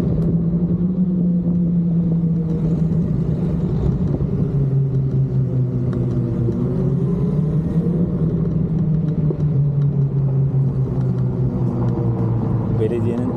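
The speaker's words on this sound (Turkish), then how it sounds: "Belediyenin arabası da sürekli burada geziyor." A municipal vehicle drives around near a beach in Marmaris, giving off a steady low engine rumble with gently shifting pitch, while a person speaks over it throughout.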